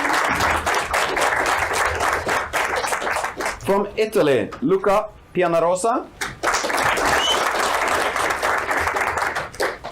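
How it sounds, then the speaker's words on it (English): Applause from an audience at a student introduction ceremony, steady broadband clapping across the clip that thins briefly while a presenter announces a name over it. "Big applause."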